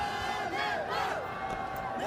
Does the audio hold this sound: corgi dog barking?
no